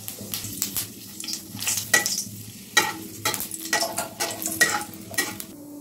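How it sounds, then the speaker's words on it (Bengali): Dried red chili and five-spice seeds crackling in hot mustard oil in a kadai, close sputtering pops and scattered metallic clinks of a utensil over a steady sizzle, no voices. "তো সর্ষের তেলটা গরম হয়ে গেছে, দিয়ে দিচ্ছি একটা শুকনো লঙ্কা আর দিচ্ছি 5 ফোড়ন।"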